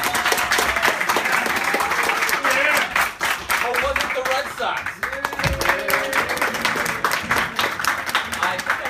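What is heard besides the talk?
audience cheering and applauding to vote for a team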